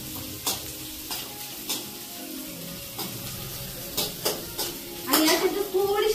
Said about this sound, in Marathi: थोडीशी मिरची ना अशी कुरकुरीत करून घेते